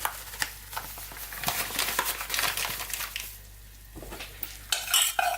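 Melted butter stirred in a pan for nachos, heard as continuous close scraping and swishing of a utensil against the pan with soft sizzling, pausing briefly before a few louder clinks at the end.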